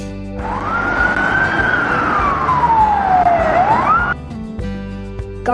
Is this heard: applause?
no